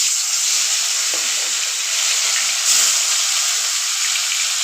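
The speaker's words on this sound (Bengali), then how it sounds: "দুটো দুটো করে ভেজে নেব।" Bhola fish rubbed with salt and turmeric fries in mustard oil in a kadai, giving a steady, close sizzling hiss that runs unbroken throughout, with no talking.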